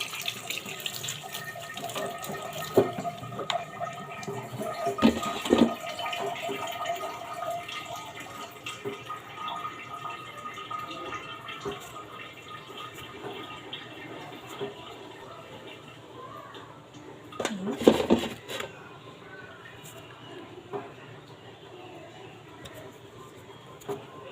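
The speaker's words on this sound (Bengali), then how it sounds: "আমার কুটা হয়ে গেছে, আমি এখন পরিষ্কার করে ধুয়ে নিব।" Running tap water steadily pours over chopped bottle gourd being washed in a sink, a continuous close splashing rush with a few louder bursts.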